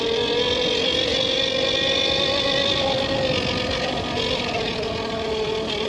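A Tuttio Soleil electric pit bike rides on a track, a steady whining motor tone with a high electric pitch holding level while it keeps accelerating, close and continuous with wind noise and no talk.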